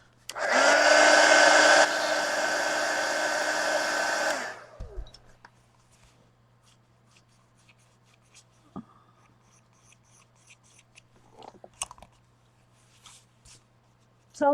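A hair dryer blows loudly and steadily for about four seconds, drying paint on mixed media collage art cards, then cuts off, leaving faint tapping and handling noises.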